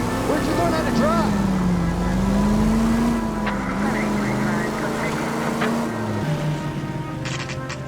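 Car engine in the video game LA Noire, a steady droning hum that shifts pitch gently as the vehicle drives, with a brief rise in tone partway through and light speech-like sounds over it.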